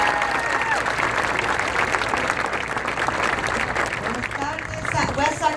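A crowd at a Pete Buttigieg campaign event in Sacramento applauds steadily to welcome a campaign leader, a dense, sustained wash of clapping with voices mixed in that thins slightly near the end.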